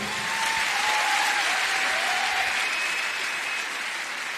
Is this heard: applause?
yes